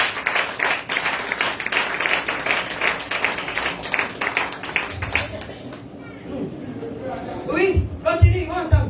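A church congregation at a Sunday praise and worship service claps and cheers, with dense, steady clapping and crowd voices that thin out, followed by scattered claps and talk.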